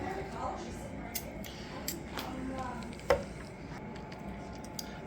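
A knife slicing through tender smoked tri tip beef on a board, producing soft, muffled cuts with one sharper knock, quiet and close under a steady background.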